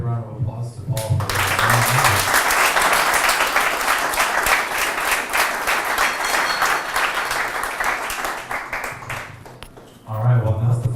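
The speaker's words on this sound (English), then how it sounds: "let's give a big round of applause to Paul" A conference audience gives a big round of applause for Paul after a smart-contract security talk: loud, sustained clapping from many hands lasting about nine seconds, with a voice speaking briefly before it starts and again once it dies down.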